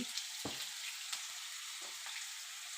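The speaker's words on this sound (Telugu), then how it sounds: "అల్లం వెల్లుల్లి పేస్ట్ ఆనియన్స్తో పాటు నూనెలో బాగా మనం ఫ్రై చేసుకోవాలి" Ginger garlic paste frying with onions in oil makes a bright, continuous sizzle, broken by a few soft stirring clunks from close by, with no talking.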